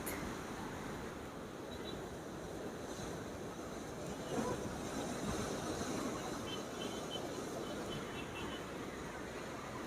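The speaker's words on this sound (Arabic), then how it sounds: "شوف شويه الامواج" Sea waves washing onto the Alexandria shore on a wintry, rainy day, a steady broadband surf roar with wind buffeting the microphone, continuous and fairly loud throughout with no clear individual breaks.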